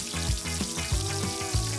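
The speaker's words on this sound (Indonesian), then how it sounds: "Dicelup ke adonan dan baru deh kita goreng di minyak yang udah panas." Battered banana fritters fry in hot oil, a close, dense crackling sizzle with repeated bubbling bursts and soft thumps throughout.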